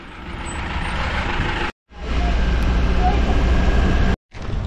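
A road vehicle, likely a truck or bus, rumbles close by with steady low engine noise on a road in Haridwar, Uttarakhand, broken by two brief silent gaps.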